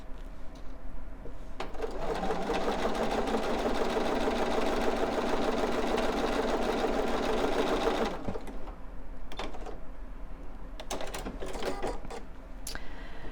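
A sewing machine stitches quilt blocks and batting together in one continuous run of about six seconds, its motor whirring steadily. Quieter handling noises follow.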